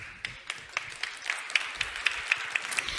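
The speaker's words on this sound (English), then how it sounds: "Give him an applause." An audience at a sustainability side event claps, a light scattered patter of hands that thins out over a few seconds, heard from a distance in a large room.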